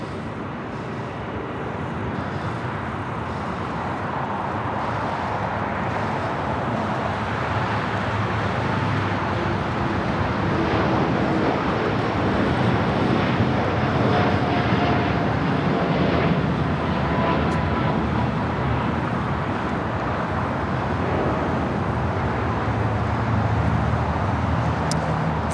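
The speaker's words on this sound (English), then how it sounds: "This is Latam Airline 603 taking off to Santiago, Chile on a" A LATAM Boeing 787-8 Dreamliner takes off from LAX toward Santiago, its engines a steady, broad roar that holds at a distance and swells slightly, with no talk over it.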